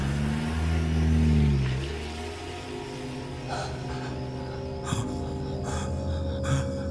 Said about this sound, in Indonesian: Ku coba lagi nyalakan mobil itu dan syukurlah mobil ini pun menyala.